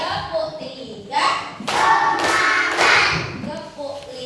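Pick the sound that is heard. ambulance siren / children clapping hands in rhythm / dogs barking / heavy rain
children clapping hands in rhythm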